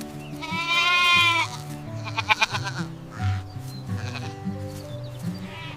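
A goat bleats loudly in a long wavering cry, followed by shorter shaky bleats, over a steady low tone from other sounds in the background.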